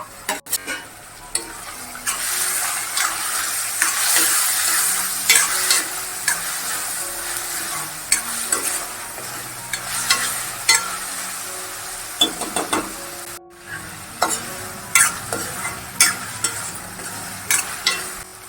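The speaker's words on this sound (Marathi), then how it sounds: "आता टोमॅटो घालून घेते।" Tomatoes sizzle in a hot pan for a broad bean gravy while a spoon stirs and scrapes against the metal, a continuous close frying hiss broken by regular clinks and knocks.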